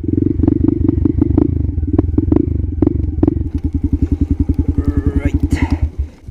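Motorcycle ridden through Storm Emma: a close, steady engine thrum that settles into a slower, evenly pulsing beat as it eases off, with rushing wind noise riding on top.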